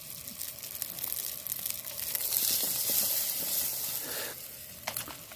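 Chorizo sizzling in a camping pan while wild camping in the rain in Scotland, a loud continuous crackling hiss with small pops, heard close and alone.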